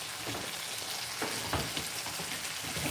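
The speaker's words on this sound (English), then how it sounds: "Cook that puree off." Tomato puree frying in a pan, a soft steady crackle and sizzle with a few brief stirring scrapes, close but fairly quiet, no voices.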